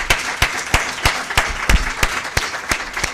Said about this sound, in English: A big round of applause to Paula, who did that.